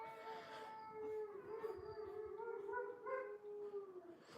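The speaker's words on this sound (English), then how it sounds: "The dogs obviously know something's up because they're howling" Dogs howl at night indoors, long wavering tones rising and falling across several seconds, faint and somewhat distant with a few overlapping voices.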